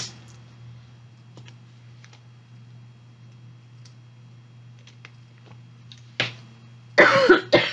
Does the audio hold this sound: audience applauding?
no